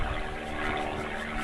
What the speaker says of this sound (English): Also, there's a plane. Sorry if you can hear that, kind of a loud.